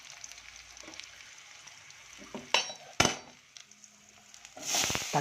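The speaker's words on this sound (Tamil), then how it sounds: "அந்த எண்ணெயிலேயே வெங்காயமெல்லாம் வதங்கட்டும்" Onions and curry leaves sauté in oil for a fish curry, a low sizzle broken by a few sharp utensil clinks and a louder hiss of frying near the end.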